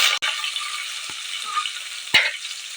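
Onions fry on a low flame in a pan, giving a steady close sizzle with a few sharp clicks and scrapes from a stirring utensil.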